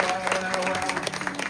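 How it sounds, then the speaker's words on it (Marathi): Audience applause at a Marathi kirtan, a brief burst of many hands clapping at moderate volume under a lingering tonal hum. "यांच्या त्यागासाठी एक बार टाळ्या वाजवा तुमच्या."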